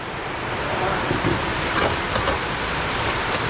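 Strong typhoon wind roars and buffets outdoors, a loud, continuous rushing blast with gusty surges, close to the microphone and with no clear speech.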